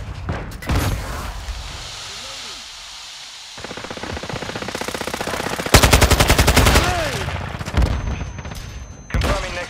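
Machine gun fire in Call of Duty MWII, long loud bursts of rapid automatic shots with pauses between, mixed with explosions and game effects, and brief radio-style voice callouts in places.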